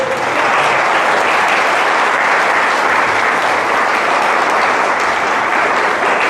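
A church congregation claps in steady, dense applause that fills the room at a constant level from start to finish.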